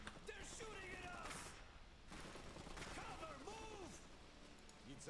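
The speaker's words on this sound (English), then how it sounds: "They're shooting at us!" Faint, scattered rifle fire and bursts of machine-gun shots crackle in an Iron Harvest battle, mixed with game unit voices speaking over the shooting.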